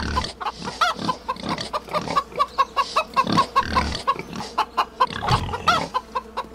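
Farm animals in the video game 7 Days to Die give repeated rhythmic grunts and clucks, with low snorting bursts like a pig among chicken-like calls.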